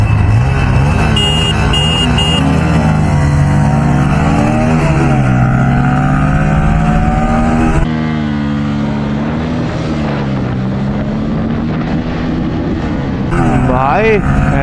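Two Bajaj Pulsar motorcycles, an NS160 and an N160, race side by side in a drag run, engines droning loud and close with rising and falling revs through gear changes amid heavy wind rush.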